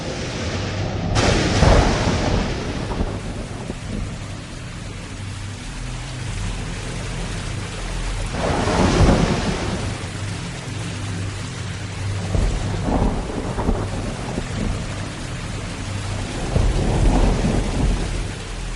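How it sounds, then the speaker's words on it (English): Heavy rain pours steadily throughout a stormy scene as thunder rumbles and cracks several times, with loud bursts near the start, in the middle and toward the end over a continuous wash of rainfall, no voices. "There's been a tumultuous rain, and it has flooded the whole area."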